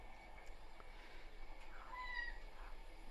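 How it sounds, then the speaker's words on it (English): A cat meows once, fairly faint, over a quiet background hum, with no talking. "That's the cat."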